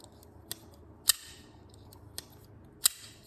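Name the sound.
Zero Tolerance assisted folding knife flipping open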